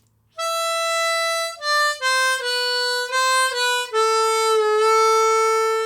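A harmonica line from a song, with a held note opening into a run of short notes and a slight bend on the 4 draw, played solo and close.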